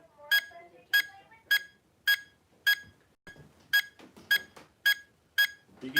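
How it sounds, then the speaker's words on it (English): A meter beeping steadily during a paranormal investigation in a museum, about ten sharp electronic beeps at a regular pace, fairly close, with faint room noise and brief muffled voices between them. "You can hear that meter going off."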